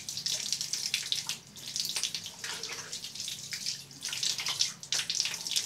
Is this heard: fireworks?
no